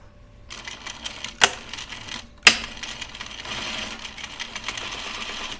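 A sewing machine stitches knit fabric for a Lucida dress, two sharp clicks giving way to a steady, close, whirring run of the motor and needle.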